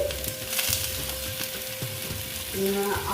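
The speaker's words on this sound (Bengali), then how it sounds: "আর একটু জল দিয়ে দিলাম দিয়ে একটু নেড়ে চড়ে দিচ্ছি" Pumpkin with tomato, cumin and coriander powder fries in a pan, a continuous close sizzle with a few soft stirring scrapes and a steady hum running through it.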